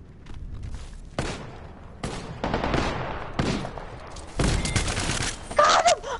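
Gunfire in the video game Fortnite, a string of sharp shots and bursts spread across the moment, close and fairly loud, with a thud and game effects mixed in.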